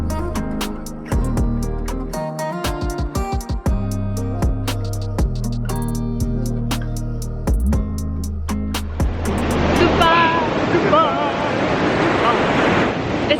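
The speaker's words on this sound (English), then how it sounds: "We're saying goodbye to the beach one last time." Ocean waves washing onto a beach under a moody sky, a steady, loud broadband roar with wind buffeting the microphone, entering after a stretch of music, while a voice speaks over the surf.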